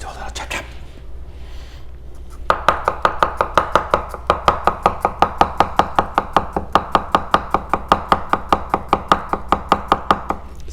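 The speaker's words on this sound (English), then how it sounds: "let's do a little chop chop" A Shiro Kamo SG2 black Damascus santoku knife chops rapidly and evenly on a cutting board, dozens of crisp close taps in a steady rhythm after a quieter start.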